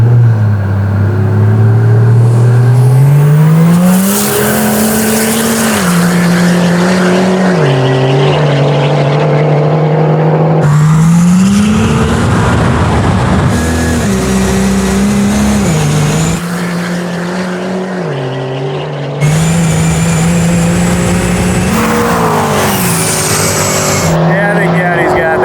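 A 900hp turbo diesel Ford F1 and a 1000hp Audi RS 6 in a no-prep drag race, engines roaring loud and close with rising and shifting pitch, tires squealing, and people talking over the racket.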